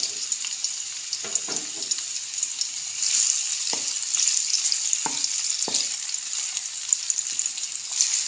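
Chopped onions frying in ghee give a continuous bright sizzle close by, broken by a few soft stirring knocks and crackles throughout.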